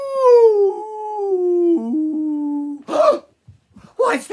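A wolf howl sound effect in a children's story: one long, loud, sliding howl that dips gradually in pitch over nearly three seconds, then a couple of short breathy bursts after a brief pause.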